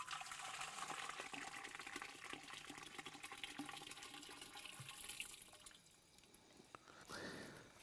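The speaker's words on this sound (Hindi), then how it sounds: "अब उसको इस बड़े वाले घड़े में डाल दिया जाएगा" Soaked dried mahua flowers and their liquid are tipped into a large clay pot while preparing mahua liquor, giving a steady wet pouring and splashing that fades out toward the end, with dripping after.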